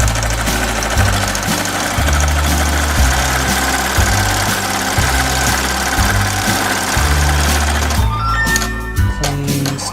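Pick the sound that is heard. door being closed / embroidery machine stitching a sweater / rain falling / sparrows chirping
embroidery machine stitching a sweater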